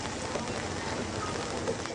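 Heavy rain pours steadily in Manila during days of deadly storms, a dense, even hiss of drops hitting surfaces throughout, with no voices.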